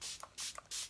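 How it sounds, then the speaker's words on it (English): Matte coconut makeup setting spray is pumped three times in quick succession, each a short, close burst of fine hiss with a faint click of the nozzle, quiet overall. "for my spray, I am using the matte coconut"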